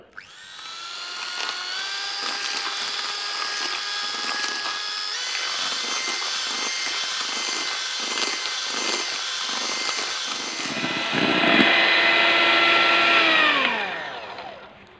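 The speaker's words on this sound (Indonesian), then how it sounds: "kita masukkan gula pasir dan masukkan SP. Lalu kita mixer" An electric hand mixer whirs steadily through sugar, eggs and SP cake emulsifier, a loud continuous whine with slight rhythmic knocking as the beaters turn, rising in pitch near the end, then winding down.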